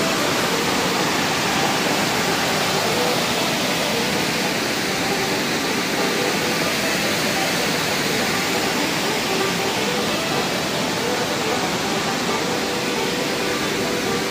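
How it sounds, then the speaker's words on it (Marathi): A powerful rain-swollen waterfall beside a hillside temple roars steadily and loudly without a break during monsoon rain, a dense rushing wash of water that completely fills the scene. "फोर्स किती आला आहे, तुम्ही पाहू शकता म्हणजे धबधब्याला।"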